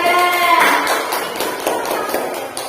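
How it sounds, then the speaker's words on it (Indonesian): A classroom of pupils claps for group 2, a dense, steady patter of many hands at close range with a few louder individual claps rising from the mix. "Kita beri tepuk tangan dulu kelompok 2."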